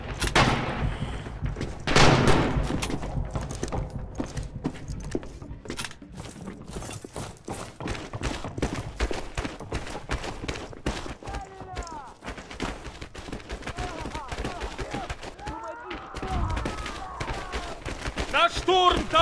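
Machine gun fire in the Stalingrad battle game Red Orchestra 2, with dense rapid bursts and scattered shots, some near and loud, others more distant, under frequent shouted voices.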